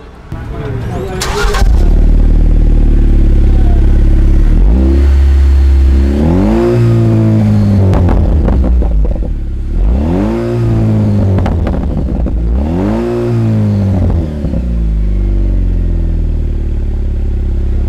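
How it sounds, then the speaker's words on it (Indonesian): A Jeep Wrangler JL's Borla aftermarket exhaust revving hard three times: deep throaty blips rising and falling, loud and close, after a clattering start. "kita akan dengerin sama-sama gimana suara dari knalpot Borla ini"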